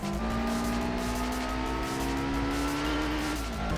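Car engine droning steadily with a rising, sustained tone as a vehicle corners without grip in Gran Turismo, loud and continuous with no speech.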